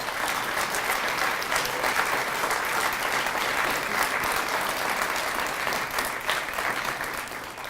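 Guests at an education foundation grants and scholarships reception give a sustained round of applause, a thick, even roar of clapping from a large room that continues throughout.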